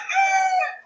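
A single drawn-out call from a country hen in a poultry shed, a short tonal vocalization under a second long, close and clear with no talk.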